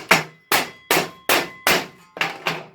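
Six sharp, evenly spaced hammer strikes ring out on a MIG weld joint made with a Telwin MIG 180A welder, each a loud metallic bang with a short decaying ring, steady rhythm, close by.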